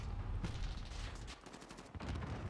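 Rapid gunfire in the Call of Duty Modern Warfare multiplayer map Shipment, dense overlapping bursts of shots throughout, loud and continuous with a brief lull near the middle before firing resumes.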